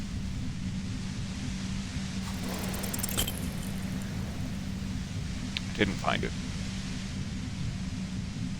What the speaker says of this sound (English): violent white noise becomes even more overwhelming closer to the compressor.